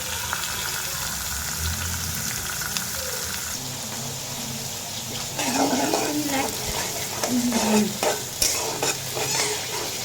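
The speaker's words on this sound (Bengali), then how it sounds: "একটু মাছগুলা ভাজা নেই" Fish frying in a hot pan with steady crackling sizzle, joined later by stirring and scraping sounds, with a faint voice briefly underneath.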